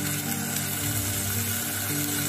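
Hot water poured steadily into a cooking pot while bihon (rice noodles) with sardines is being prepared, a continuous close rushing wash of water lasting a couple of seconds.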